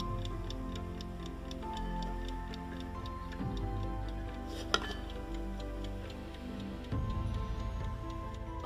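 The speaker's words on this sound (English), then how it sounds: "This is probably to make the clock tick." Partly disassembled clock mechanism ticking in an even, quiet rhythm up close, with a few small clicks and faint handling knocks among the ticks.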